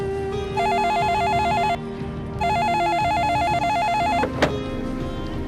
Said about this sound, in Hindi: लाओ बेटा, फोन उठाओ।